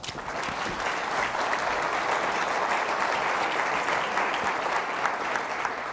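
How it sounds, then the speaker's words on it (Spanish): An audience at a business conference panel applauds a speaker, with dense, even clapping from many hands sustained throughout without a break. "Un aplauso para Abby."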